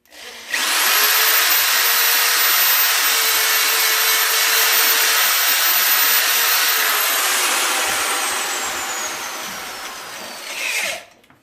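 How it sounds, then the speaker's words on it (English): A power drill bores a hole into the center of a knobby on a dirt bike tire, a loud continuous high whine lasting about ten seconds with a steady pitch that slowly drops before it cuts off. "We're going to go ahead and we're going to drill our first hole."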